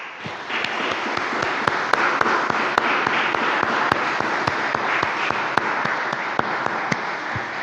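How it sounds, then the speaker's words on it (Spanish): A church congregation breaks into sustained, loud applause, a dense wash of many hands clapping steadily throughout, with sharp individual claps standing out on top. "Vamos a recibirla con un fuerte aplauso."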